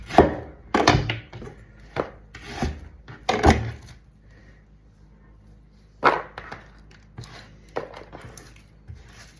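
Onion and chili being chopped with a knife on a board for homemade pizza, several bursts of quick close knife strokes separated by quiet pauses, with faint rustling between.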